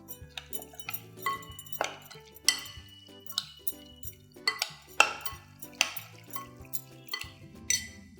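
Prawns being mixed with soy sauce and masala in a bowl, with repeated clinks and scrapes of a utensil against the dish in an irregular rhythm, close and fairly quiet.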